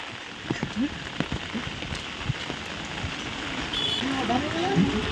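Steady rain falling outdoors, a continuous close wash of drops with scattered louder splats, heard alone without speech.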